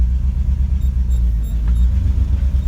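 A 1967 Chevrolet C50 dump truck pulls away in first gear, its engine a steady, loud, deep rumble that holds close and continuous throughout without any talk.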